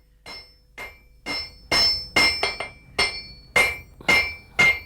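A hammer beats on hot steel over an anvil, drawing it out into a wedge for a farm tool, with about ten ringing metallic blows in an uneven rhythm, some coming in quick pairs.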